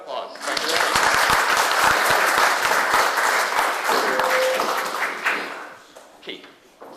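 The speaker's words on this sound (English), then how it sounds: "Give him another round of applause." An audience gives a performer a dense round of clapping that stays loud for several seconds, then thins out and fades with a few scattered claps at the end.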